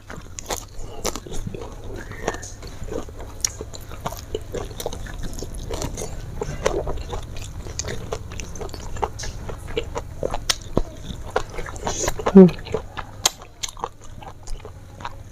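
Someone eats black squid stir-fried with terasi sambal and raw vegetables at close range. There are wet chews, bites and occasional crunches in an irregular rhythm, with soft mouth noises and no talk.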